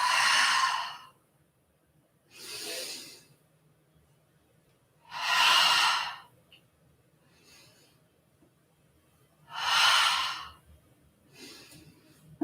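Deep exhaling breaths during a gentle slow-flow yoga session, five or six long airy sighs spaced a couple of seconds apart, close and moderately loud over a quiet room hum.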